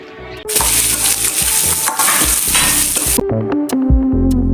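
Two large chopped onions with curry leaves fry in hot oil for chicken varuval, a loud close crackling sizzle punctuated by scraping stirs and metal clinks against the pan.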